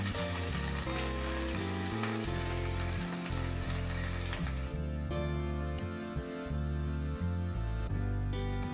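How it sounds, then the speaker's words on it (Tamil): Drumstick leaves sauté in a hot pan, a steady soft sizzle and frying crackle, with a spatula clinking against the pan in short repeated taps. "அந்த முருங்கைக்கீரையை அதில் போட்டு நல்லா வதக்கணும்"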